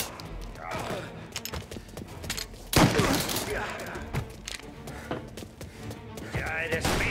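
Gunfire from a shootout in the Mafia remake video game, repeated sharp shots scattered across the scene with one especially loud burst midway, mixed with thuds and shouting voices.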